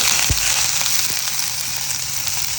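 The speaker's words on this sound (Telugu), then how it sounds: "ఈ క్యాప్సికమ్ కూడా ఫ్రై అవ్వాలి." Capsicum fries in a pan with a steady, close hiss and crackle, a couple of soft clinks near the start, and no talking.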